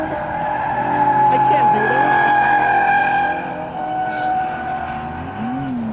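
A $2800 BMW E36 drift car roars on track at its first drift event, its engine note rising and falling under sustained tire squeal, with a voice speaking briefly over it.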